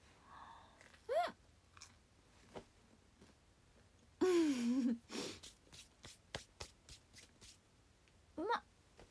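Someone takes a bite of food and chews, giving a few soft, close crunchy bites separated by quiet gaps, with small breaths and mouth noises between.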